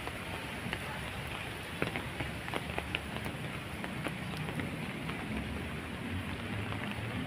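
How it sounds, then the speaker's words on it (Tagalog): Heavy rain falls in Intramuros, Manila, a dense steady hiss of drops on surfaces with scattered sharper splashes, continuous and close. "Lakas ng ulan, nagbablog."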